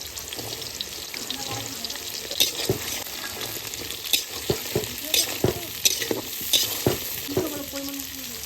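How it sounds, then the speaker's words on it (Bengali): Onion frying in a wok while being stirred, a continuous sizzle broken by repeated sharp scraping strokes of a spatula, close and moderately loud. "ক্যাপসিকামটা ভাজা হয়ে গেছে এবার পেঁয়াজটা দিয়ে দেবো"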